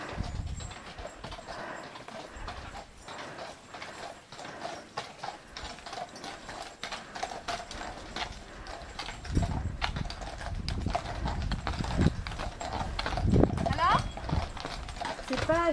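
Horses walk along a stony path on a nomadic trek in the Lot, France, their hooves clip-clopping in a steady rhythm with creaking tack, growing louder and closer while people talk over them.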